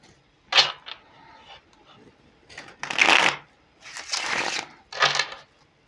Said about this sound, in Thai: ขอกรีดไพ่สิ